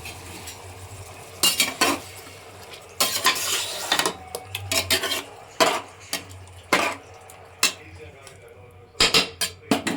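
Chicken sambar base fries in a wide pan while a metal spoon stirs it, giving loud repeated clanks and scrapes in irregular bursts over a low sizzle.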